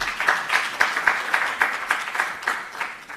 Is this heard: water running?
no